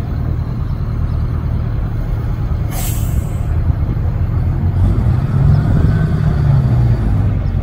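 An MCI MC5a coach rumbles at idle while being reversed, a low steady engine drone with a sharp hiss of released air brakes partway through, heard close with no talk.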